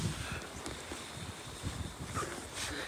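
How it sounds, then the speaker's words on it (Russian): Winter wind at Lake Baikal buffeting the microphone, a steady rushing gust with low rumbling thumps, fairly faint and with no voices. "Ты понял, почему такой ветер?"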